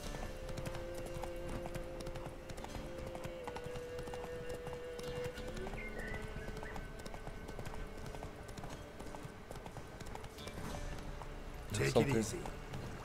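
Hooves of the horse Roach clip-clopping in The Witcher 3 video game, a steady rhythmic trot under game ambience and music, with a louder burst of action near the end.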